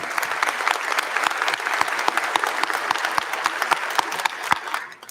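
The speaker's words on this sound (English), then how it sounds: "Please give them applause." Steady applause from a crowd at a college commencement ceremony, many hands clapping in a dense, even patter that fades out at the end.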